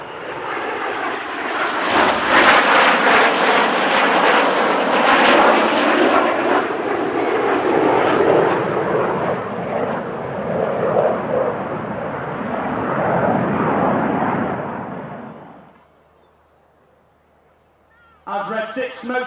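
Red Arrows jets roaring overhead during an aerobatic display at an airshow, a loud sustained rumble swelling and fading over about fifteen seconds, followed by quiet and a voice at the end.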